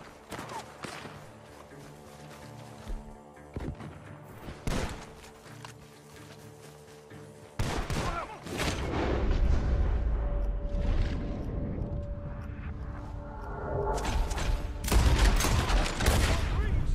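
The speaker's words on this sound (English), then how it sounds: "The gunshots are coming from that barn." Rapid bursts of Red Dead Redemption 2 gunfire from a barn crackle throughout, sparse at first and then dense and loud, with booming impacts and brief voices mixed in.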